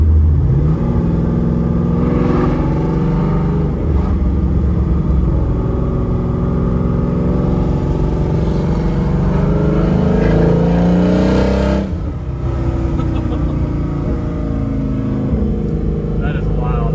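A Toyota Prius fitted with a 5.3L engine and open exhaust cut-outs revs hard in second gear, a loud, continuous, rumbling roar that swells and dips close by, with voices talking over it.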